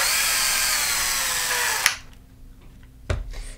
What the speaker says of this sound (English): You'll notice as I'm tapping, I actually spin the tap in several turns, and then I'll back it out in order to clear the flutes out